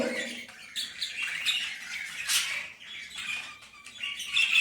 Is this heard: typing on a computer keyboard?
no